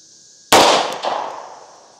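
A single sharp shot from a Tisas B9R double stack 1911 pistol cracks out loudly, then echoes and rings off as it decays over about a second, with no voices.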